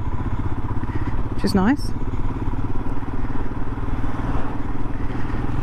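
Royal Enfield Himalayan adventure motorcycle running steadily with a continuous mid-pitched engine drone and some clatter, someone speaking briefly over it.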